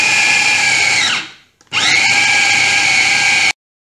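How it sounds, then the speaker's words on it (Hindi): An electric grinder coarsely grinds soaked chana dal in a loud whirring burst, stops briefly for a second, then runs again before cutting off abruptly, close up with no talking. "यह हमने दाल को पीस दिया है, देख सकते हैं।"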